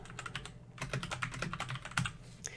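Rapid, irregular clatter of keys being typed on a computer keyboard, close and fairly quiet, with a brief pause early on before the tapping resumes.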